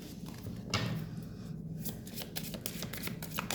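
Tarot cards are shuffled by hand during a card reading, giving a steady run of close, crisp riffling and flicking for several seconds with no talking.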